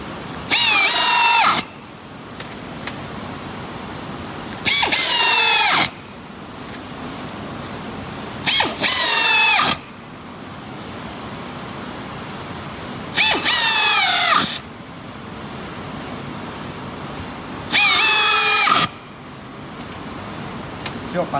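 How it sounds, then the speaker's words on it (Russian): A power drill drives self-tapping screws in five loud, whirring bursts of a second or so each, spaced a few seconds apart, with quieter background and some talk in the gaps. "Саморез закручивается."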